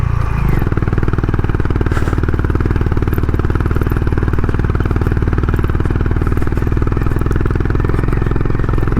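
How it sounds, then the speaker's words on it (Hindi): A Honda Highness motorcycle labours uphill in first gear on a rough Spiti Valley road to Hikkim, its engine a steady, close, loud thumping chug throughout with no pause. "वहाँ पे तो फर्स्ट गियर पे भी एकदम बैठने को हो रही है।"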